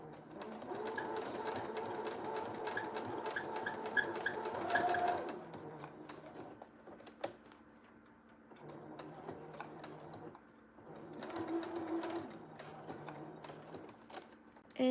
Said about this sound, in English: I always sew a little bit and then I back stitch